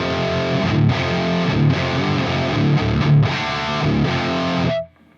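Heavy distorted electric guitar played through a Soldano X88IR rack preamp with impulse-response cabinet sim chugs loud chords and riffs with brief gaps, then cuts off abruptly into near silence at the end.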